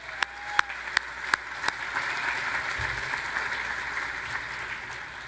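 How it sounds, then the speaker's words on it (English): Audience applause at a convention opening ceremony, starting with a few loud distinct claps, then settling into a steady, moderately distant wash of clapping from the crowd. "Let's have a round of applause, please."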